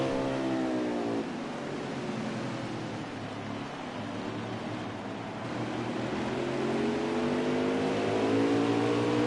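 Onboard engine of a race truck at Martinsville, revving loudly with rising and falling pitch as it accelerates through the lap, steady roar throughout with no talk.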